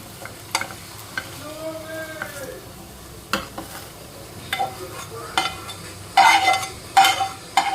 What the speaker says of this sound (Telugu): దీంట్లోనే పప్పు కూడా తాలింపు వేసేస్తాను అనమాట